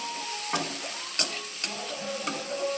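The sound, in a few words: boiled carrot, banana and potato frying in oil with five-spice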